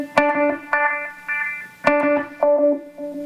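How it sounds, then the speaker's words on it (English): Electric guitar notes played through a sweep echo delay pedal with tap tempo, each plucked note followed by swirling, modulated repeats; about five distinct note attacks ring out loud and close, with no talking. "this is a sweep echo. So instead of having kind of your basic digital delay pedal, what I have now is a more trippy kind of repeat."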